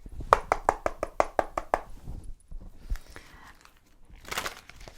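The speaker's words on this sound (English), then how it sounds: "I knock on the deck to shake out the loose energy from the previous reading" A tarot card deck is rapped by hand in a quick run of about eight sharp, close knocks, followed by softer rustling and riffling as the cards are shuffled, with no talking.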